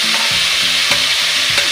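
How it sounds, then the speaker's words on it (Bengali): Cauliflower, potato and grated coconut fry in a pan with a loud, dense, continuous sizzle, while a few slow stirring strokes scrape through it close up, with no voices. "দিয়ে এটা ভাজা হোক"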